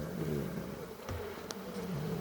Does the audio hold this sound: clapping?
no